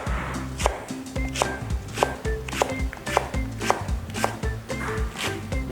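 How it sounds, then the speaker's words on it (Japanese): A knife slices green onion diagonally on a cutting board, with a steady run of crisp, evenly spaced cuts close up over tonal background music. "斜めスライスで"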